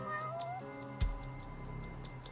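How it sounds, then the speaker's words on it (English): A cat in the Judgment game gives a single short meow near the start, with a soft thump and faint tonal game ambience carrying on behind. "I don't know where, but that was the sound of a cat."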